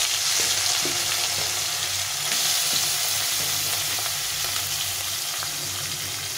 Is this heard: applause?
no